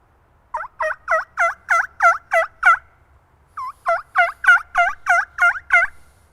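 A reed turkey call imitates a wild turkey with two quick runs of about seven sharp, evenly spaced yelps, separated by a brief pause and heard clearly with no talking.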